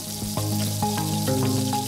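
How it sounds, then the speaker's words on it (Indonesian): Side dishes such as fish, squid and beef ribs fry in a wok of hot oil at a food stall, giving a steady, close sizzle with faint tonal sounds running underneath. "aneka lauk di sini tuh digoreng dulu nih di minyak panas sampai matang"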